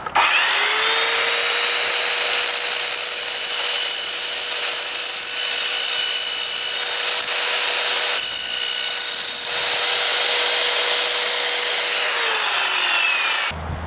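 An Evolution R210SMS sliding mitre saw slices through aluminium carpet trim: a loud, steady high-pitched whine with a sustained cutting drone lasting about twelve seconds before the motor cuts off abruptly.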